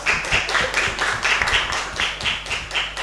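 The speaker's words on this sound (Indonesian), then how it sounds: "tepuk tangan semuanya" An Indonesian classroom group claps together after a lesson on prayer, giving a dense, steady patter of many hands, fairly close, lasting the whole stretch with no speech over it.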